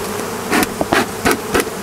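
Honeybees from two late wild swarms buzz loudly and close, in short pulsing bursts, as they are sprayed and merged into one hive.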